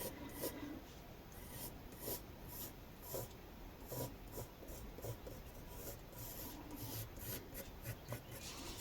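A pencil rubs back and forth on paper while tracing a guitar shape for a craft project, a soft, close, repetitive scratching with irregular strokes, quiet and without talk.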